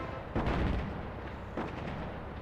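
Artillery fire in the Attack at Dawn: North Africa game: two deep booming blasts, each with a rumbling tail, land about a second apart over a low background.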